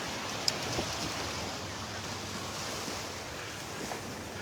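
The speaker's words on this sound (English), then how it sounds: "So now we're on Vanderbilt Beach, the very north end of Vanderbilt Beach." Waves at the north end of Vanderbilt Beach on a morning walk: a steady, soft wash of surf with wind on the microphone, even and unbroken throughout, fairly faint and distant.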